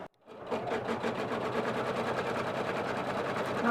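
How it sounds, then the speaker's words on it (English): An embroidery sewing machine stitches fabric held in the hoop, running with a fast, even mechanical rattle of needle strokes that starts after a short pause and continues steadily and close by. "let's head to the machine, and we're going to stitch this piece down"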